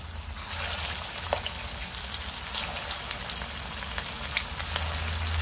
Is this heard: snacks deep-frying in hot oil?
yes